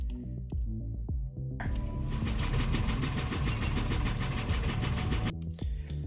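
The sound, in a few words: boat engine starting up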